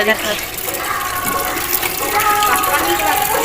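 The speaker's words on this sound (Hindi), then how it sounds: "ये रे पानी डाल दी" Water poured into a cooking pot in a home kitchen while a vegetable dish is prepared, a steady loud gushing fill lasting several seconds, close by.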